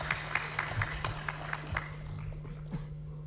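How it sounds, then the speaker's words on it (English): Applause at a presidential debate, a short round of clapping with rhythmic claps standing out from the crowd, fading out within a few seconds. "A round of applause for him."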